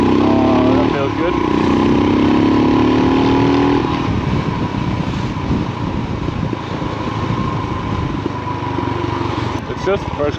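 A motorbike engine revs under load in first gear, a rising whine that climbs and then drops into a steady rough drone, with voice-like sounds mixed in.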